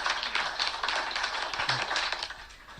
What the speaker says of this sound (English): Hang on, give myself a clap first.